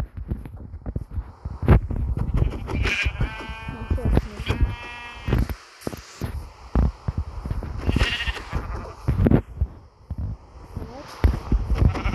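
Sheep bleats from the Minecraft video game, a few short wavering cries in the middle and near the end of the clip, heard clearly over someone talking with game sounds underneath.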